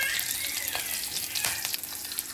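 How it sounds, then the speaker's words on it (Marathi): Cumin seeds and green chillies crackle in hot oil for a tempering, a loud close sizzle with scattered sharp pops and spits over a continuous hiss. "थोडासा फोडणी, हे बघा, पाव चमचा जिरा आणि हे 2 मिरची हिरवे हिरवे हिरवे"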